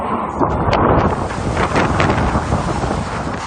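Loud, roaring typhoon wind buffets the microphone continuously in Basco, Batanes, a heavy rushing blast with gusty surges and no pauses.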